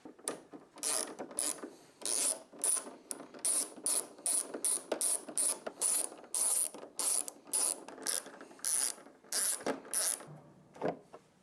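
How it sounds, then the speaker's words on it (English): A ratchet driver with a T25 Torx bit loosens the four bolts holding the windscreen on a 2024 Harley-Davidson Road Glide, giving repeated short bursts of close, crisp clicking with brief pauses between them and no talking. "First thing you're going to want to do is take off the windscreen. It's going to be the 4 bolts holding the windscreen on."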